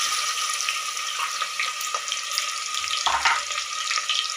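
Onions frying in hot oil in a pressure cooker, giving a continuous close sizzle with occasional scrapes and clinks of stirring.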